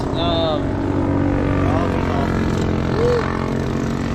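Go-kart engines drone steadily on a track during practice laps, a continuous buzzing roar with shifting pitch sweeps as karts pass, heard under occasional talk.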